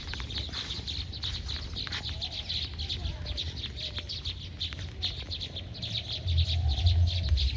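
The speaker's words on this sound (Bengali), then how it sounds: "সরি বাবুই পাখি না এটা চড়ুই পাখি" Sparrows chirping on a rainy morning, repeated quick bright chirps at a steady pace over a soft, constant background hiss, with a low rumble building near the end.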